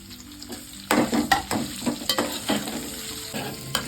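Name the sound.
onion frying with garlic in a pan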